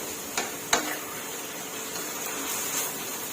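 Minced pork and onion being stir-fried in a pan, with a steady sizzle and a couple of sharp scraping clicks of the spatula against the pan, moderately loud with no talking.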